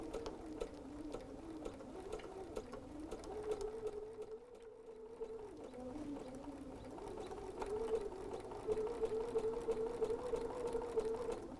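A sewing machine runs steadily while stitching a folded star quilted hot pad, giving a continuous close mechanical hum with a rapid needle rhythm that briefly slows midway and then picks back up.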